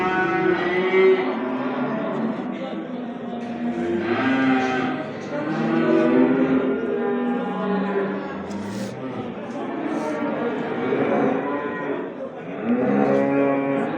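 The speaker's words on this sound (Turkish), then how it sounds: "Güzel bir inek varmış arkadaşlar." At a livestock market, a cow lets out long, drawn-out moos again and again, loud and near, mixed with ongoing talk from people nearby.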